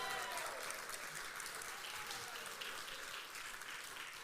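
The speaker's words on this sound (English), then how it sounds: "A round of applause, please." An event crowd applauds steadily, a dense, even wash of many hands clapping at moderate distance with no pauses throughout.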